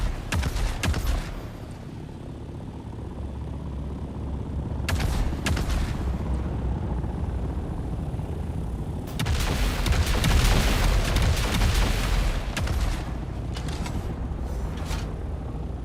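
Gunfire and booming explosions crackle in bursts during a video game battle, some blasts sharp and near, others a dull rumble, with dense stretches of rapid shots and no one talking.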